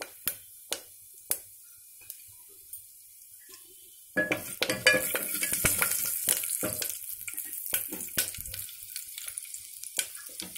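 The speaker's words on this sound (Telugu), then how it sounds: "పోపు వేగింది కదా మంచి స్మెల్ వస్తుంది ఆయిల్ వేడెక్కింది కదా వేగమే పోపు వేగిపోయింది" Mustard seeds and curry leaves tempering in hot oil in a pressure cooker: a few sharp, isolated pops, then a sudden loud burst of sizzling and crackling that continues close up with scattered spits.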